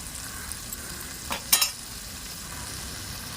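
Half a kilo of chopped tomatoes frying in a pan for tomato egg curry, a steady close hiss with a couple of brief scraping stirs midway, no talking.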